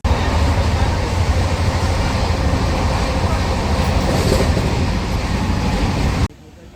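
A passenger train runs steadily after departing Asansol, a loud, continuous rumble and rattle of wheels and carriages heard from on board, then cuts off suddenly to a faint hush near the end.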